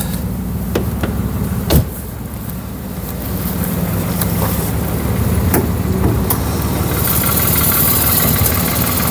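A 1.2 litre PureTech petrol engine in a Peugeot 308 GTi idles with a steady, continuous low rumble, heard close up and alone, with a brief click partway through.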